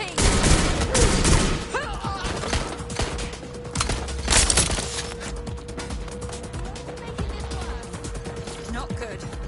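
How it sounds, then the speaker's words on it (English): Gunfire rattles through a Watch Dogs Legion street shootout, with heavy bursts early that thin into scattered shots and mechanical clatter, while voices call out during the fight. "Calling for backup! Suspect is shooting!"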